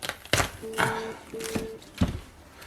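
A knife chops a head of cauliflower on a board in four or five distinct, fairly close cuts spaced irregularly, with a faint tonal hum between strokes.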